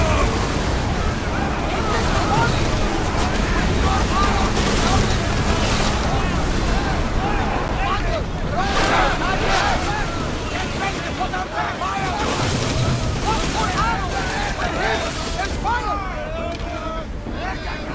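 A sailing ship at sea in Assassin's Creed Odyssey: a continuous wash of waves and rushing wind, with a dense crowd of shouting crew voices mixed in throughout.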